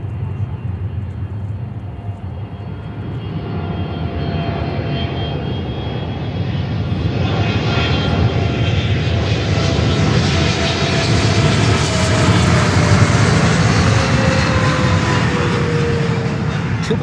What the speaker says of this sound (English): Triple 300 freighter